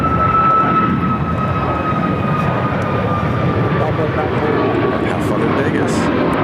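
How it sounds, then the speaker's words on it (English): A Southwest Boeing 737 MAX 8 jet departs Phoenix Sky Harbor bound for Las Vegas, its loud, constant engine roar steady and near while a person talks briefly over it. "This is Southwest Flight 940 headed to Las Vegas on a MAX 8"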